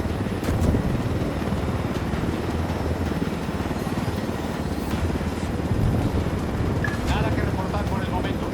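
Loud, steady rotor and engine roar of helicopters in Ghost Recon Wildlands combat gameplay, a continuous throbbing drone that persists throughout, with people talking over it.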